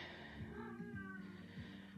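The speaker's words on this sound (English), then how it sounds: "That's my cat." A cat meows faintly in a quiet room, a few soft drawn-out cries with wavering pitch.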